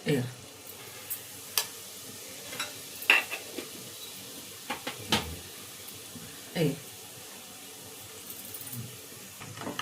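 Hot oil tempering for a Telugu tomato pickle gives a soft, low sizzle in a pan. Scattered clinks and scrapes of a spoon against the pot break in at irregular intervals.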